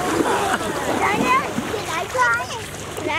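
Rocks thrown into a lake splash into the water outdoors while people, including a child, talk over them.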